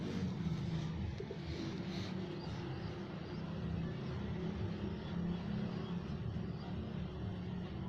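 Pigeons coo steadily throughout, a dense low murmur of several birds close by, with a constant background hum and no speech.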